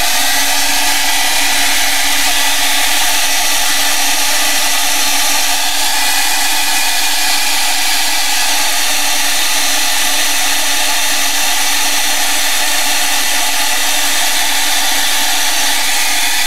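A hair dryer blows steadily and loudly for the whole stretch, drying a paint ground on an art journal page, with a constant whooshing airflow and motor whine and no talk.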